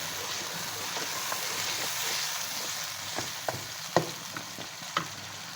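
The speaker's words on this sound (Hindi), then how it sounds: "कम से कम 10 मिनट तक भूनें इनको।" Goat trotters (paya) are fried in a pot with a soft, continuous sizzle. Several sharp clinks and scrapes of stirring come through in the second half, and no one talks.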